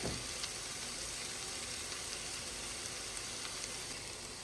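Carrots with a little pepper fry in a pot, giving a steady, even sizzle that holds at a moderate level without pause.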